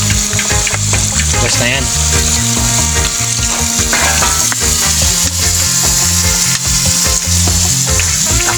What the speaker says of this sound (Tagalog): Lagyan ko na rin po yan ng toyo